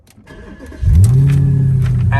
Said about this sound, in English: Audi performance exhaust, so you get the lovely, fantastic Audi sound from what is probably one of the best engines Audi have ever made.